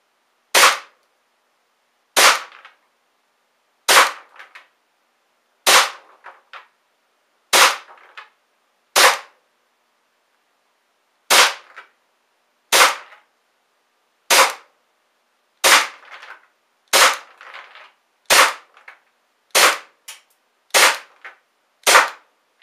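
A WE MEU airsoft pistol fires a magazine of about fifteen sharp, close, isolated shots at a target from 15 feet, spaced unevenly at first and then coming quicker toward the end, with silence between them.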